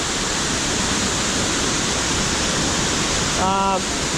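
Big Falls in Washpool National Park, New South Wales, gives a dense, constant roar of falling water, steady and loud throughout, with a brief tonal whistle near the end.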